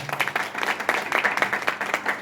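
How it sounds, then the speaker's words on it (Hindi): A meeting audience claps for a guest's guru, rapid scattered hand claps blending into a mid-sized round of applause with faint voices mixed in. "तो मैं चाहूंगा इनके गुरु के लिए एक बार जोरदार तालियां।"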